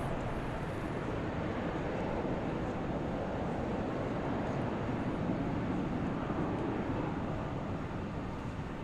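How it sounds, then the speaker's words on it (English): A United airplane takes off at DFW Airport, a steady, distant broadband jet roar holding evenly throughout. "Let's watch this United airplane take off."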